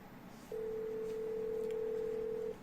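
A steady electronic telephone tone sounds as a call is placed, starting after a brief pause and holding at an even pitch for about two seconds before cutting off, over faint room noise.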